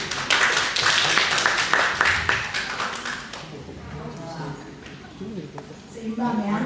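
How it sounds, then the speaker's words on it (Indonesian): An audience at a talk show and beauty class claps briefly and fairly loudly, then the applause fades as people begin talking over it. "kita beri tepuk tangan."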